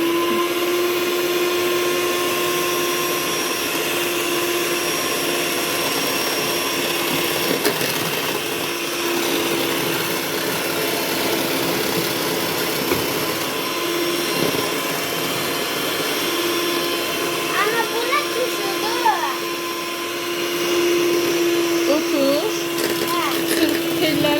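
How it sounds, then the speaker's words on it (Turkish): Electric hand mixer whirring steadily in a home kitchen as it beats eggs with sugar for pancake batter, a loud continuous motor drone lasting the whole stretch with slight shifts in pitch as the beaters move. "Sen aç mikseri Layda."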